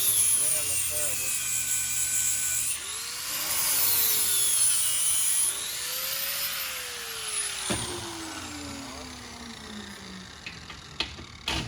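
Slow grinding on a JW Ultra-Bell housing, a steady whirring tool tone that rises and falls in pitch as it works the metal, continuous and fairly close throughout.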